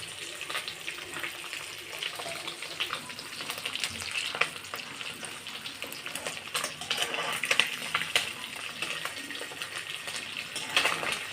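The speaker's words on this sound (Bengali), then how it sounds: "এগুলো আমি খুব বেশি ভাজবো না, হালকা করে ভেজে নেবো।" A pan lightly frying ingredients for an egg masala dal gives a soft, even sizzle close by, with faint irregular crackles and small knocks from stirring.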